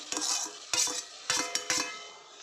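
Tomatoes and onions stirred in a chicken curry pan, four distinct scraping, clinking strokes of a spoon against metal at a steady rhythm, close and fairly loud.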